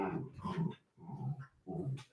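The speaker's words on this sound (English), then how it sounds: "You guys hear them growling?" Dogs growl and whimper while wrestling together in play, three bursts of rough, throaty growling close by with short pauses between them, no talk over them.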